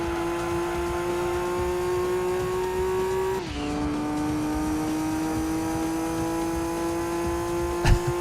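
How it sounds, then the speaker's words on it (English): Sustained car engine drone with steady harmonic tones from Gran Turismo 2, dipping sharply in pitch around the midpoint as the throttle lifts off the turbo, then holding steady again before a brief knock near the end. "Let's get on and off that turbo."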